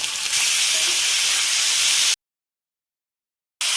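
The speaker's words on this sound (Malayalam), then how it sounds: "ഇനി നമുക്ക് ഇതിനകത്തേക്ക് നമ്മൾ അരിഞ്ഞു വെച്ചിരിക്കുന്ന സവാളയും കൂടെ ചേർത്ത് നന്നായിട്ടൊന്ന് ഇളക്കി കൊടുക്കാം." Chopped onion tossed into a hot pan with ginger and stirred while making a Kerala-style egg roast gives a loud, steady hissing sizzle that runs for about two seconds, then cuts to silence before briefly returning.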